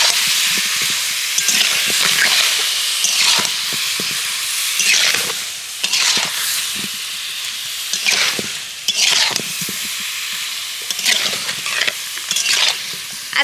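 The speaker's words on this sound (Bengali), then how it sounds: "চিনিটাকে গলিয়ে নেব এইভাবে একটু নাড়লেই গলে যাবে" Sugar melts into an olive pickle as it is stirred in a pan, with repeated, rhythmic scraping strokes over a steady hiss and sizzle, close and fairly loud.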